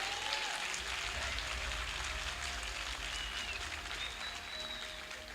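Congregation applauding Jesus during a church sermon: steady, continuous clapping from a crowd, moderately distant and even in level, with no voices over it.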